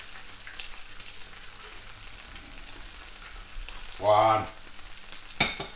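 Sausages and bacon fry in a pan for a full English breakfast, a soft steady sizzle with a louder burst of crackling partway through and a brief clatter near the end; a short spoken word is heard.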